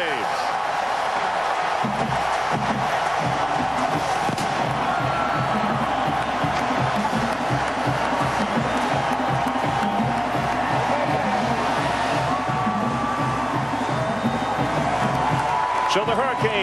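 A football stadium crowd roars steadily as the Miami Hurricanes run out of the north tunnel before a 2004 game against Clemson, a dense, loud, continuous wall of cheering with a commentator talking over it.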